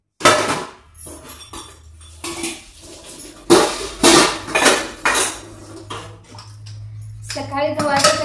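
Pots, pans and utensils clatter and clink repeatedly at close range as they are put away on a kitchen counter, with bursts of handling noise and short pauses between.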